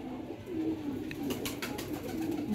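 Pigeons in a Lahore loft of high-flyer birds, including a golden pigeon and females, coo softly in a low steady murmur, with birds nearby and no talk.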